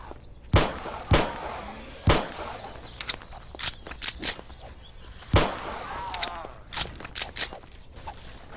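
Gunfire in 7 Days to Die, sharp single shots spaced irregularly over several seconds, some louder and closer, others lighter and clustered, with faint ambient background between them.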